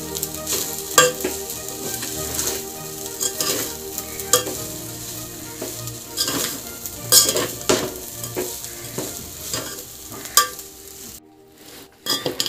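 Gongura fried rice is stirred with salt in a hot pan. Continuous sizzling sits under repeated scraping and clinking strokes of a utensil, loud and close, before a brief drop near the end.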